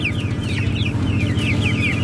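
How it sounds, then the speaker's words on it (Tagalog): Several chickens cluck and chirp over a low, steady hum, with overlapping calls from a nearby flock. "so dami naman yung alaga mga manok"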